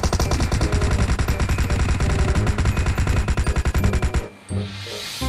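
Dense, rapid automatic gunfire from PUBG Mobile's zombie mode at night, loud and nearly continuous bursts for about four seconds before cutting off into a brief quieter stretch and a few scattered shots.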